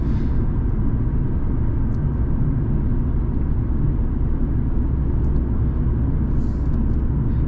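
A Fiat Egea 1.4 cruising in sixth gear at 2000 rpm on a level road, giving a steady, even low engine drone and road rumble from inside the cabin, unbroken throughout.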